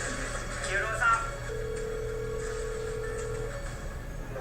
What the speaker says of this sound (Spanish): Ah, el teléfono iba a sonar.